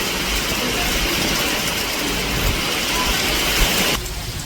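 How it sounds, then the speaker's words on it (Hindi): Very heavy rain pours down steadily on the Vaishno Devi pilgrimage route as a dense, unbroken hiss that suddenly drops in level near the end. "बारिश आवाज आ रही होगी आपको, बहुत बहुत तेज बारिश हो रही है"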